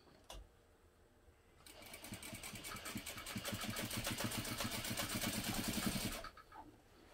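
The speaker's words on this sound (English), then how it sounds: "And now I'll top stitch using another 1/8 of an inch seam allowance." A sewing machine top stitches a seam at an eighth-inch allowance, starting after a short pause and running in a rapid, even mechanical chatter for about four and a half seconds before stopping, close and alone.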